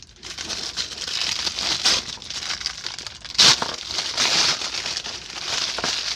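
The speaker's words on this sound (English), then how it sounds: "I'm going to have to rip the paper" Paper packaging of a Power Rangers Lightning Collection Silver Ranger figure is torn and crumpled up close in a series of irregular rustling, crinkling bursts, with one sharper rip near the middle.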